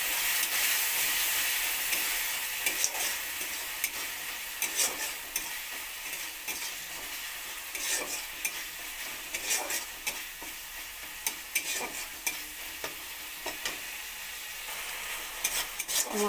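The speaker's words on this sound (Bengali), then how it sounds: "জল দিয়ে মশলাগুলো আবার কষিয়ে নেব" Ground spices with a splash of water sizzle and hiss in a pan for a pumpkin and egg curry, with a steady frying hiss broken by repeated stirring scrapes and clinks throughout.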